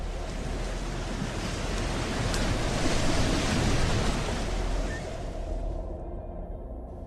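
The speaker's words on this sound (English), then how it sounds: "Dry ocean basins are replenished, and the seas arise to form new shorelines." Ocean surf washes onto a shoreline in a continuous, loud roar of breaking waves, swelling slightly in the middle before easing off, with wind-like rushing throughout.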